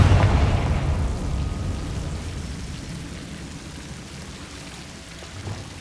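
A Confringo blasting curse explodes in the video game Hogwarts Legacy, a deep booming burst at the very start that rumbles and crackles away into a fading debris patter over several seconds.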